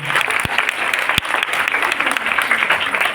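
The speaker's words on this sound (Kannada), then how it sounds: "ಒಂದು ಜೋರಾದ ಚಪ್ಪಾಳೆ ಬಂದು" An audience breaks into loud, dense applause, many hands clapping at once in a steady roar, with a couple of sharp thumps along the way.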